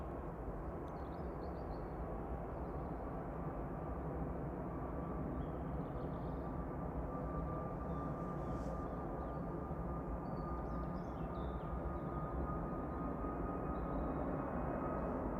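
Airliner starting its takeoff roll at Manchester Airport in the evening, a steady distant rumbling engine roar that holds even and slowly builds across the whole stretch, with no voices.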